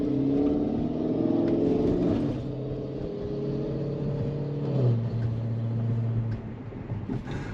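A Tesla electric car on FSD Beta 10.12.2 pulls away through an intersection on a green light. A smooth tonal motor whine rises and shifts pitch over several seconds, with faint road noise beneath it.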